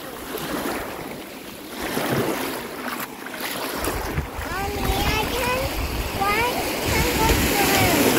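Waves wash and rush over an empty rocky beach under steady wind, a continuous broad roar close by, with voices talking over the surf.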